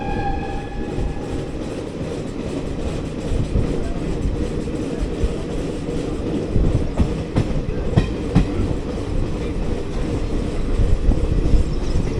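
Inside an AC 3-Tier coach of the 06576 Palakkad to Bengaluru SMVT Summer Special train as it departs: a steady, loud rolling rumble with faint wheel clacks building slightly, and little else.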